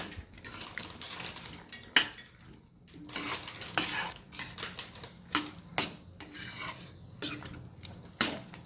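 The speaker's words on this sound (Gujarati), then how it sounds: "પછી એને હલાવી દઈશું સરસ મજાની રીતે." Ratlami sev is stirred into tomato curry in a pan, a spoon clinking and scraping against the metal in irregular close strokes with a soft sizzle underneath.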